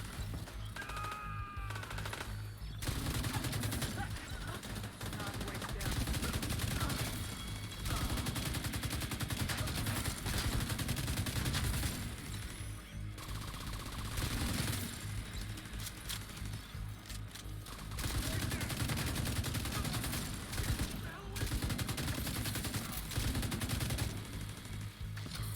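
Rapid light machine gun fire from a Pestilence LMG build in the video game Division 2 comes in long sustained bursts, broken by short gaps for reloading.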